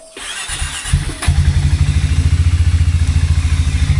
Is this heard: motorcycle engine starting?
yes